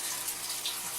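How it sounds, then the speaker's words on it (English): Water splashing steadily into a betta fish tank, churned hard to oxygenate it, a continuous close, broadband trickle and spatter with no other sounds. "I have a lot of water splashing because I'm trying to highly oxygenate the water"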